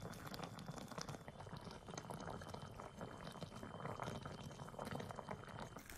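Tteokbokki sauce with rod-shaped fish cakes simmering over medium-low heat, a soft steady bubbling and fizzing that stays faint and even throughout, no voices, with a brief louder knock at the very end.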